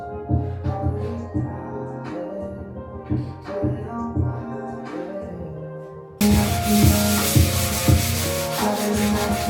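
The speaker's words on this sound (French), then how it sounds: "Donc je recommence à zéro et je repars sur du ponçage." Sanding during a bathroom renovation: repeated rubbing strokes with soft tonal background, then a louder continuous abrasive hiss of sanding near the end.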